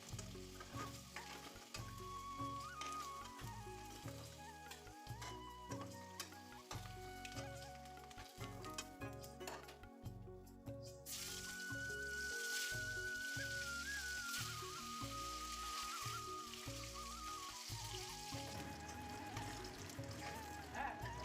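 Egg and potatoes fry in oil with a steady close sizzle and crackle, while music plays loudly over the top throughout.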